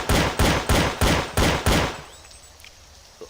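Six rapid pistol shots from a Half-Life: Source mod using Counter-Strike: Source weapon sounds, evenly spaced sharp cracks with short decays, then quiet room tone and a faint click.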